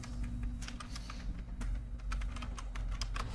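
Quick bursts of keystrokes on a computer keyboard as a website address is entered, close-miked and steady over a low background hum, with no one speaking.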